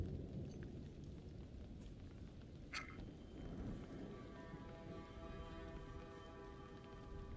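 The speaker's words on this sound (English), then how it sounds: "Oh, and it's snowing and raining." Rain and snow in the horror video game Little Hope, a faint, steady wash of rainfall with a low rumbling bed, one brief sharp crack partway through and a soft hum near the end.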